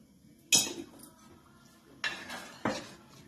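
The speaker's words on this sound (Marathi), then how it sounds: "आता ह्याला चांगली उकळी येऊपर्यंत आपण असं एकसारखं हलवायचं" A spoon clanks against a pot of brinjal kadhi being stirred, three sharp metallic knocks with quiet gaps between, close and distinct, with no talk.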